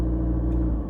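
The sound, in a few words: Isuzu MU-X 3-liter turbo diesel engine while driving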